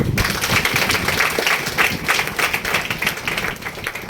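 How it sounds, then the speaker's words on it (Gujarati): An audience claps hard and steadily throughout, a dense, close wash of many hands applauding at a speech gathering, with no break in the clapping. "એના માટે એકવાર જોરદાર તાળી"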